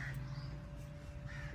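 Crows cawing near several nests in a tree, harsh calls repeating at a steady moderate distance over a steady low background hum, with no talking.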